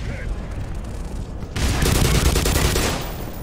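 Gunfire and grenade explosions in the Black Mesa video game form a dense, rattling barrage of shots that swells louder and fuller about halfway through.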